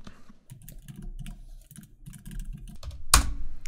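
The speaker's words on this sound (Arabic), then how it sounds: "فخلينا نكتب الباسورد بتاعتنا" Someone types a password on a computer keyboard: a quick, close run of light key clicks in short bursts, ending with a sharper, louder keystroke like the Enter key being struck.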